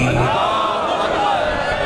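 A large crowd at a religious gathering roars back in unison after a call, a dense, loud wash of massed voices filling the whole moment with no gaps.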